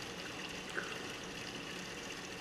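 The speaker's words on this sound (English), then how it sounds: "We're going to start washing the brushes, and make sure the water isn't too hot." Lukewarm water runs and trickles steadily while paint brushes are washed, a soft, even, continuous flow heard fairly quietly with no voices.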